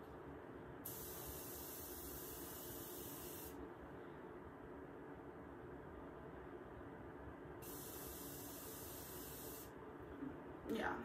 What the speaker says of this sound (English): Go ahead on and use the Morphe Continuous Setting Spray. I'm going to do a light mist with this.